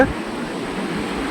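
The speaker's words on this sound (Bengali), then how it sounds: "ঢেউ আসছে" Sea waves wash around a moving boat on a ride at Digha, a continuous broadband rush of surf and water that is fairly loud and steady, with no voices.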